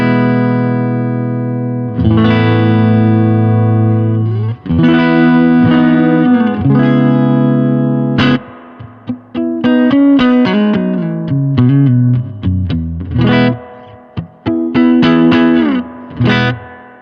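Electric guitar played through a Supro Delta King 10 amp with reverb added, loud distorted chords and single-note runs ringing out with reverb tails and short pauses between phrases, no talk.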